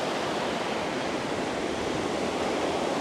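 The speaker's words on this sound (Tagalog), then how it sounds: "Ang lakas ng tagos ng batis." Fresh mountain stream in Banff rushing steadily over rocks, a dense, loud, unbroken wash of water noise close by, with no voices.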